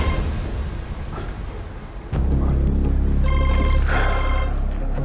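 A telephone rings with a repeating electronic trill that starts abruptly partway through and continues over a loud, dense background.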